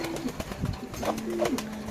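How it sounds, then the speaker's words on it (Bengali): Pigeons, including young squabs, at a pigeon farm give repeated low cooing calls, close and fairly steady over a brief stretch. "এইগুলো বাচ্চা কবুতর"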